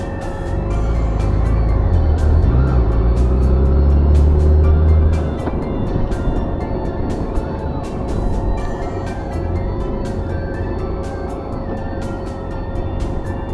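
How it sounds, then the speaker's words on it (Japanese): Heavy road traffic in Osaka heard from a BMW K1600GT motorcycle: a loud, continuous engine rumble and rushing road noise, stronger for the first few seconds, then easing into a steady drone with no talk. "交通量が多いですね。"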